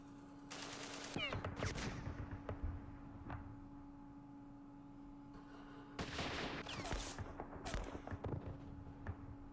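Guns firing in the Vietnam war game Campaign Series Vietnam, set at Dien Bien Phu: two dense bursts of rapid gunfire with scattered single shots between, moderately loud over a steady electronic hum.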